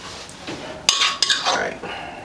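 Metal utensils clink and scrape against a dish while green papaya salad is served out, with a few sharp chinks and rustling between them, close by and without talk.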